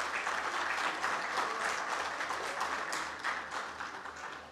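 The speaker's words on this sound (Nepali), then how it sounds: "प्लिज तालीले उहाँलाई स्वागत गरौँ" An audience at a Rotary Club charter day celebration in Kathmandu applauds to welcome the district governor, sustained dense clapping throughout, steady and moderately loud.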